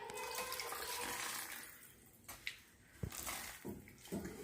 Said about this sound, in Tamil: மிக்ஸி ஜாரெல்லாம் கழுவி ஊற்றினா தண்ணி